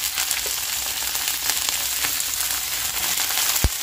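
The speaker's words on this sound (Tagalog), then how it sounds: "Gisa na natin yung ating hipon." Shrimp sautéing in a pan give off a steady, close sizzle across the whole stretch, broken by a few light scrapes and one sharp clink near the end, with no talking.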